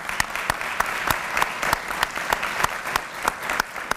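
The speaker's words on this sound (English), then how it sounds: "I'm going to clap for Karen real quick." A closing-session audience applauding for Karen, brisk dense clapping with sharp individual claps standing out, continuous and fairly close throughout.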